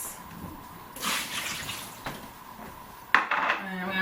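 Water is tipped out of a seed-sprouting container into a sink, splashing and clattering in short bursts with a louder knock and pour near the end, close by and moderately quiet.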